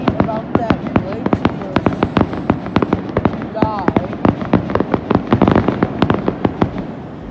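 A fireworks grand finale bursts in the sky in a rapid string of sharp, loud cracks and booms with crackling in between. Voices talk over the barrage.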